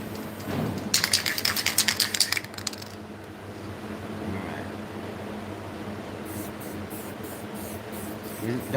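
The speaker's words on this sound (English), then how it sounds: "Don't spray too much into this" Black spray paint hisses over a stencil for a graffiti lip piece in two runs of short, rapid close-up bursts separated by a quiet pause.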